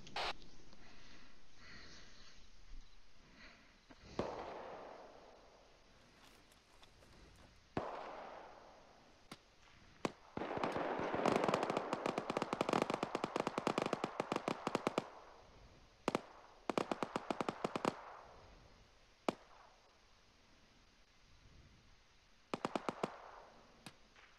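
Mortar fire in the military shooter Arma 3, with scattered muffled thumps and then dense bursts of sharp cracking detonations and rattling blasts, loud and repeated across the scene with no talk.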